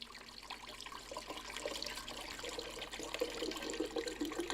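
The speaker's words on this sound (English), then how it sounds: "in my trusty Omega blender, I'm going to add about 2 cups of coconut water" Coconut water pours into an Omega blender jar in a steady, soft splashing stream that grows slightly fuller as it goes, close and fairly quiet with no talk.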